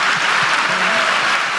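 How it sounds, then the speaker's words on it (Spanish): Church congregation applause in Lechería, Venezuela, a thick continuous wash of clapping at steady volume, with a faint voice briefly audible underneath. "Aplaude si tienes la oportunidad."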